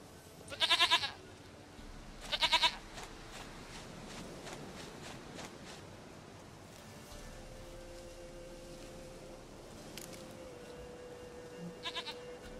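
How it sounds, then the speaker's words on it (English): Goat bleats from The Witcher 3, two loud close calls near the start with fainter bleats later, set over a low ambient game background with no talking. "Goat of mine, dearest, sweetest goat."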